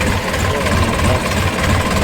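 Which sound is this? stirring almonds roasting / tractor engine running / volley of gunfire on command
tractor engine running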